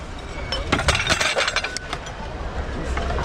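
Small ceramic bowls and platters salvaged from discarded kitchen wares clink and clatter together in quick, irregular knocks close by, with some background noise.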